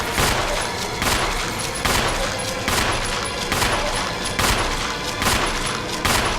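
Rapid bursts of gunfire from the Resident Evil REmake, set in the mansion, come in regular volleys about every 0.8 seconds and stay loud and continuous across the whole stretch with no talking.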